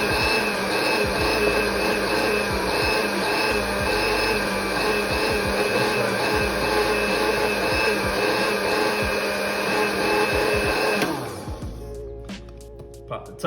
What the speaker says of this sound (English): I like to blend it again just for good measure